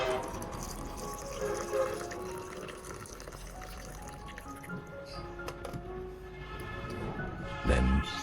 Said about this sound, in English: pour about 500 milliliters of hot water into the jar to help release the nutrients in the banana